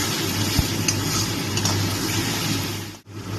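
Masala for a gathi kochu and potato curry stir-fried at length in a pan, a continuous close sizzle and hiss with occasional light scraping, cutting off abruptly near the end.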